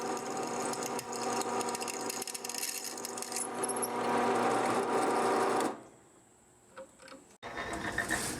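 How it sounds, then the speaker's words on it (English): A hand-sharpened pivot drill with a rather obtuse edge bores into a knife blade for a Higo no Kami style friction folder, giving a steady, loud mechanical whir that cuts off abruptly, followed by a few faint small clicks. "My pivot drill had to be sharpened by hand, so it takes off very small chips"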